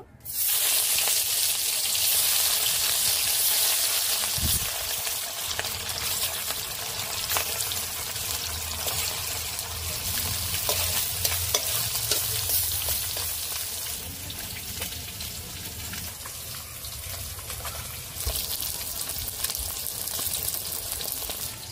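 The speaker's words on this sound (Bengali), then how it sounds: "তেলটা ফুটুরি হয়ে গেছে। এবার এর মধ্যে মাছ দিয়ে দেব।" Pieces of bhetki fish fry in hot oil in a heated kadai, giving a continuous bright crackle and hiss that holds steady throughout, with a few small knocks of the pan and no talking.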